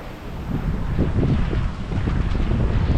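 Strong wind buffets a sailboat at sea on an open-water passage, a roaring gusty rush with low surging wash from waves hitting the hull, steady and close without speech.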